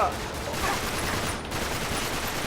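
Dense, sustained gunfire from the Uncharted 3 video game, a continuous loud barrage of shots filling the whole moment without pause.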